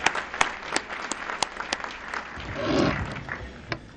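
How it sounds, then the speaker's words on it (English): Scattered applause from a modest crowd at an education awards dinner: irregular hand claps, fairly distant and light, swelling briefly before tapering off. "How about a big round of applause for Diane"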